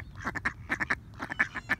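Wild ducks quacking repeatedly in quick bursts, several birds calling over one another at close range, loud and continuous.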